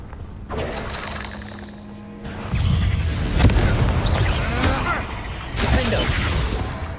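Confringo spell blasts in Hogwarts Legacy ring out in a fight with spiders, with sharp cracking bursts and shattering debris, repeated blasts standing out loudly over ongoing combat noise.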